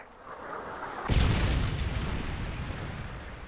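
A Predator missile strikes in Modern Warfare 3, opening with a sudden heavy boom that becomes a long, loud rumbling roar and fades slowly.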